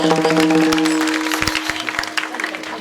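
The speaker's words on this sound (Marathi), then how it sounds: "टाळी वाजवा जरा, टाळी." Audience clapping along at a Marathi kirtan, a dense wash of many hands that stays steady, then thins into scattered claps against a sustained harmonium-like drone.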